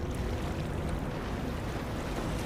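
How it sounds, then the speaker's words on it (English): A ship sails over open sea, its wake of waves trailing behind, heard as a constant loud wash of water and wind rumble with no break and no voices. "I leaned against the ship's railing, watching the waves trail behind us"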